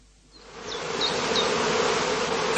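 Heather bees buzzing at a skep apiary in the northern Lower Saxony heathland during cast swarming, a dense close swarm hum rising in after a brief silence and holding steady, with individual bees whizzing past.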